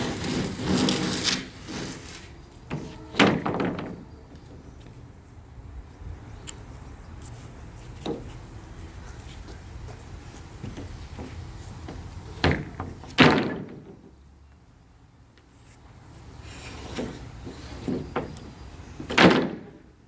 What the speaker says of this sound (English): We're gonna take our sheet of plywood, lay it horizontally across, not vertically.